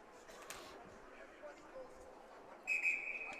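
A referee's whistle at a boys' ice hockey game between Manchester and Merrimack gives one sustained, piercing blast near the end, over faint arena murmur and commentary.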